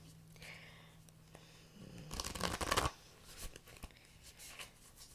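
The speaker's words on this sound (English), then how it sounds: "Let's give these a little shuffle." A deck of tarot cards is shuffled by hand: one loud riffling burst lasting under a second, with softer card handling and rustling before and after, no talk.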